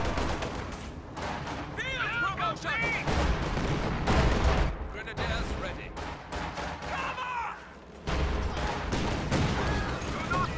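Rapid gunfire, explosions and grenade blasts crackle through a World War II real-time strategy battle with Soviet and German forces, a T-34 tank among them, dense and continuous with brief lulls, under an ongoing commentary voice.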